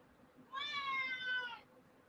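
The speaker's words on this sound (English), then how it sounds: "Quit talking to me like that, cat." A house cat gives one drawn-out, faint meow lasting about a second, alone against a quiet room background.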